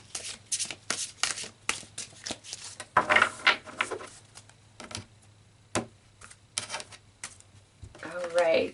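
Tarot cards are shuffled by hand in short bursts of riffling and slapping, close and crisp, with brief gaps and a voice near the end.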